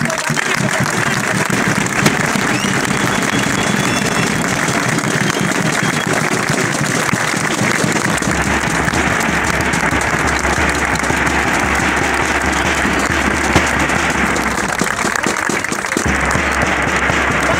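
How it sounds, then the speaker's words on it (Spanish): A crowd at a political rally at the Obelisco in Argentina applauds loudly and continuously for the whole stretch, a sustained dense roar of clapping. "voy a pedir un aplauso para aquellos compañeros y compañeras"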